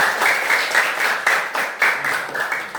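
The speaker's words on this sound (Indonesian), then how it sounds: "Kita beri tepuk tangan untuk semua." Classroom group applauding all the discussion groups, a steady, fairly loud round of clapping from a room of people lasting the whole stretch.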